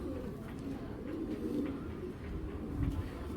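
Low cooing pigeons murmur faintly and steadily in a loft, a soft continuous bed of sound without talk.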